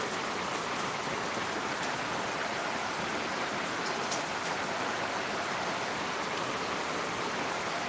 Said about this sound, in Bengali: অনেকদিন পর বৃষ্টি হচ্ছে গুয়াহাটিতে